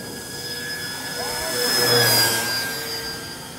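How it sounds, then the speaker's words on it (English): A Dynam B26 twin-motor RC model warbird, 1500mm span, makes a flyby, its electric whine swelling to a peak midway and fading as it passes, with a steady high tone and outdoor background noise. "Nice flyby there, Will."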